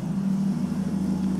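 A steady car engine drones at a constant low pitch, close and continuous, with no voices.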